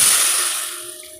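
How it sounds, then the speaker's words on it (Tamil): Tamarind water pouring into a hot cooking pan for an okra tamarind curry, a close, loud hissing sizzle that gradually settles and fades as the liquid spreads. "இப்போ புளி கரைச்ச தண்ணியை ஊற்றிக்கலாம்."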